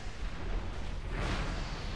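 Ship cannons in a video game fire in a dense, rumbling roar of heavy booming blasts, continuous and loud, rolling together without clear separate shots.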